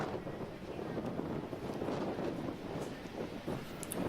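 Gusty wind buffets the microphone at an outdoor rugby sevens match on a very windy day, a loud, rumbling roar that swells and eases without a break.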